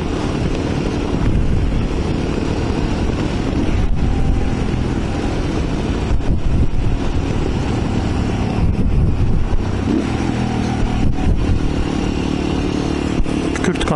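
Motorcycle ride on a road near Dalaman heading toward Salsala bay, with loud continuous engine drone and heavy wind rush at the microphone throughout, the engine note rising and falling with the throttle.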